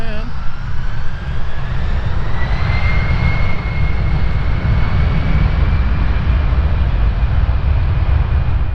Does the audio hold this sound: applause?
no